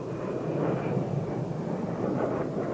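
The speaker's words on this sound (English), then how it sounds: "The speed of the A-10 allows the airplane to fly in and around the contours instead of merely across ridgelines." A-10 attack aircraft in flight, its engines a steady broadband roar and rumble that holds at a constant loudness throughout, with no talk.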